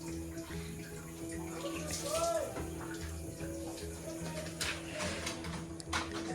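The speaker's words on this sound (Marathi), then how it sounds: "बाबा पाणी भरतात" Water runs from a tap into a container in a continuous faint stream, with a low steady hum and occasional clatters in the background.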